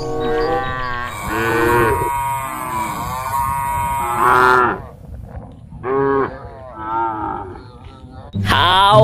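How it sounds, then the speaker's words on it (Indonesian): A cow moos several times in long, drawn-out calls with short pauses between, loud and close, with no talking. "Ini ada sapi."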